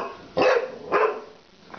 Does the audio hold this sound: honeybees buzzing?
no